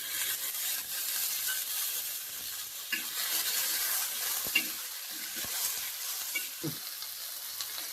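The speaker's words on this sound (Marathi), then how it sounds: "टमाट्याला पण थोडंसं परतून घ्यायचं" Tomatoes fry in oil in a kadhai, a soft continuous sizzle with occasional light scrapes and clinks of a spatula stirring.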